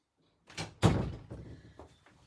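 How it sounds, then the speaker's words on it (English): An indoor door opening at home, giving a couple of close thuds and a louder knock-like bang, then softer rattling and shuffling that fades out. "I gotta open the door."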